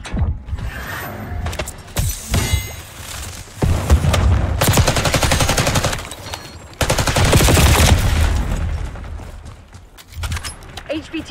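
Automatic and burst gunfire from Black Ops 6 multiplayer, rapid loud volleys running through most of the stretch with short pauses between, with game announcer speech mixed in.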